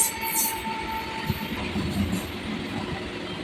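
A Howrah–Belur Math local train runs along the rails with a steady low rumble of wheels and carriage noise, a brief faint squeal near the start, heard from inside the moving train.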